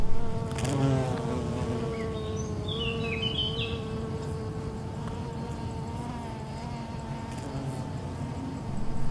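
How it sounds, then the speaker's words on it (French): Bees and other pollinating insects buzz steadily around flowering garrigue shrubs, a close, continuous drone of wings with a few faint bird chirps behind it. "Toutes ces fleurs attirent les insectes pollinisateurs."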